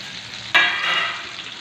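Pointed gourds frying in oil, a soft background sizzle that jumps into a louder hiss as the pieces are turned, then settles into a steady crackle.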